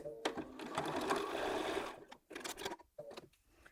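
A sewing machine stitches a quarter-inch seam on log cabin quilt blocks, a close rapid whirring run that stops, then a few short bursts of stitching with brief pauses.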